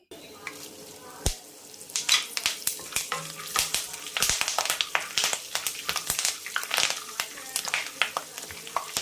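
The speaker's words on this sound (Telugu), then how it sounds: "ఇవి వేగిపోయిన తర్వాత ఎండుమిరపకాయలు కూడా వేసుకుని వేయించుకోవాలి." Dried red chillies and curry leaves fry in hot oil in a pan for a puffed rice snack, giving a steady close sizzle broken by sharp crackles and pops and the scrape of stirring.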